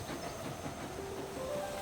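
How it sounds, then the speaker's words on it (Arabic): A moving cartoon circus train rolls along in a steady, low rumbling clatter with faint hissing and a thin whistle-like tone, fairly quiet and without voices. "قطار السيرك فريد."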